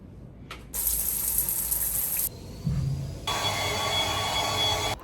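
Shower water running while living out of a car, a loud steady hiss of spray that cuts in and out and changes tone as the flow shifts.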